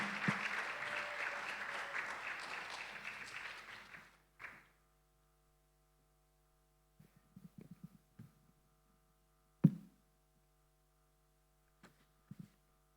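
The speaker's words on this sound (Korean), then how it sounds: "나오실 때 박수로 환영해 주시기 바랍니다" A church congregation claps to welcome a guest, a dense round of applause that fades out after about four seconds. Only a low mains hum and a few scattered taps and bumps follow.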